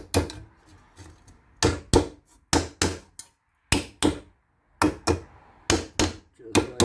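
Wheel hub dust cover on a 2005 Ford Escape / Mazda Tribute front hub being tapped into place with a hammer, a series of sharp, close metallic knocks in irregular pairs and clusters with short pauses between.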